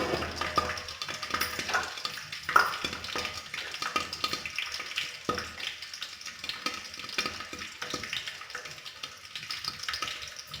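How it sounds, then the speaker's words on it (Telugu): Oil in a cooking pot that may still be slightly damp crackles and sputters in a faint, irregular patter of small pops, with one sharper spit near the start and no talking. "అందుకే ఆయిల్ అనేది బాగా చిటపట్లాడుతూ ఉంది"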